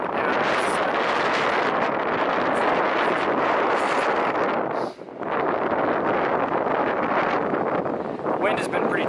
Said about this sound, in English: The wind has been pretty terrible for 2 days in a row